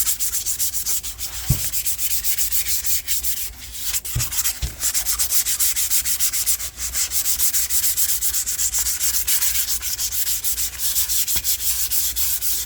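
Hand sanding Timbermate grain filler off a northern ash guitar body with 320-grit dry paper, a loud, continuous close rasping scrub with rhythmic back-and-forth strokes and a few brief pauses, no voices.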